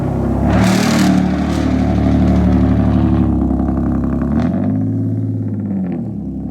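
A built Kawasaki ZX10R motorcycle engine revs while still cold, loud and close, with a blip and rising, falling revs over a rough idle before settling lower.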